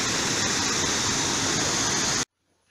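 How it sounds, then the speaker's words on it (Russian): Thermal spring water in Greece gushes down as a stream into a small bath, a loud, steady roaring rush that fills the sound and then cuts off abruptly to near silence. "покупаться под струей холодной воды, получить гидромассаж только холодной водой"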